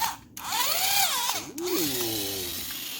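An old Signal Electric Mfg Co electric drill, about 70 years old, whirs up, dips briefly, and spins up again, its motor pitch rising and falling, loud and close with no voices.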